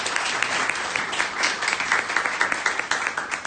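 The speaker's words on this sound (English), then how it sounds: "Give him a round of applause to welcome him." An audience at an author talk breaks into sustained applause to welcome the author, a thick, even wash of many hands clapping throughout, moderately loud and close.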